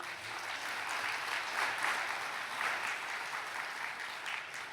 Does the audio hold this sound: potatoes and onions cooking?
no